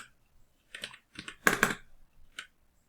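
Computer keyboard typing in a few quick, close bursts of clicking keystrokes separated by short pauses, with no speech.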